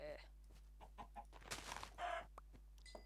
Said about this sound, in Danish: Nå, der var sgu da en kylling.